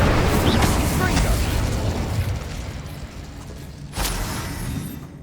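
Confringo and Incendio spell blasts from Hogwarts Legacy burst loudly one after another in a combat fight, with sharp pops and booms that end in a final strong blast.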